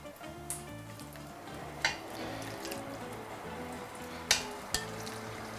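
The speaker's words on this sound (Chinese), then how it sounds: "这个时候要下入我们的鸡胸肉，开小火，慢慢一片一片的给它下进去" Chicken breast slices sizzle softly in a lightly oiled pan over low heat, a steady quiet frying hiss with a few sharp clicks as pieces are laid in.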